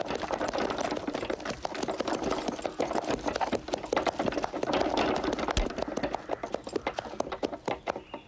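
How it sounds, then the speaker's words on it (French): Horse hooves clip-clop in a quick, steady rhythm close by, with a rumble of wheels or carriage beneath, continuous and fairly loud. "Vous pouvez rentrer le cheval."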